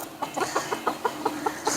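Hen clucking after laying an egg on a backyard farm, a run of about ten short rhythmic clucks at steady intervals, fairly close and moderately loud, with no talking.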